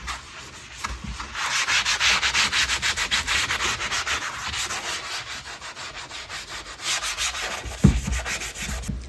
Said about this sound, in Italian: e con una spugna sempre abrasiva strofiniamo bene.